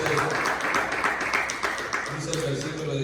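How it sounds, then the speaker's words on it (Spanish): A congregation at a church service claps in a continuous patter of applause, with a voice murmuring under it at the start and again near the end. "Denle un aplauso a Dios, hermano."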